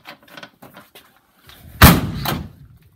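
The back door of a Ford Focus is slammed shut once with a loud, close, heavy thud and a brief rattle, after a few soft knocks and rustles.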